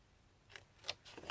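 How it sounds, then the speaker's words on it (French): Scissors cutting through paper card to make a pizza-box style multi-signature card, giving three short snips in quick succession, near and fairly quiet, with no talking. "on va passer au découpage au ciseau"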